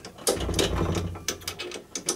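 Short ratcheting, gear-like clicks as a wheel is screwed onto the axle of a Gauge 1 live steam garden railway carriage, close and distinct, in a few quick bursts with no talking.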